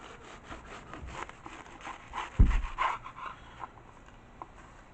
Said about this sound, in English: Okay, so it's time to cut our KrautStrudel